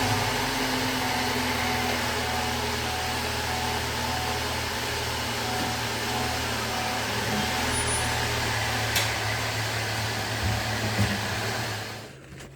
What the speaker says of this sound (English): I'm gonna go ahead and start the engine, let it run for about 30 seconds